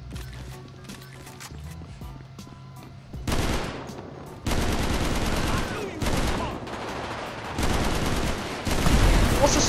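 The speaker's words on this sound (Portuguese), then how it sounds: "Nossa, essa metralhadora aqui é boa." Machine gun fire in the video game GTA V, a gang war against the Lost gang, rattles in dense bursts that begin around the three-second mark and continue on and off to the end, with someone talking over part of it.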